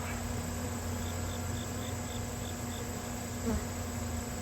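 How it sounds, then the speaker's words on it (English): A constant low drone of bees held in a bee vacuum hums inside an enclosed space, with a faint repeating high tick and a brief thump near the end. "I've got the bees in the vac back here, and they're just chilling in there."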